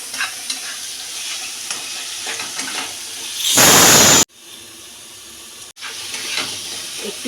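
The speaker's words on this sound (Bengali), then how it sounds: "এবার আমরা দেবো রসুন আদা কাঁচা লঙ্কা বাটা পেঁয়াজের সঙ্গে ভালো করে নাড়িয়ে ভেজে নিই" Garlic, ginger and green chili paste fries with onion for a cauliflower, potato and katla fish curry, a close loud sizzle stirred with a spatula, swelling into an intense hissing burst midway before settling back to steady frying.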